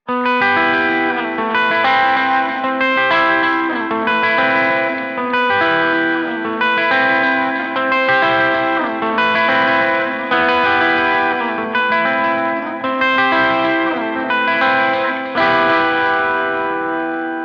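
Electric guitar chords ring out through delay and chorus pedals, repeating in a steady, shimmering pattern with echoing trails, loud and continuous.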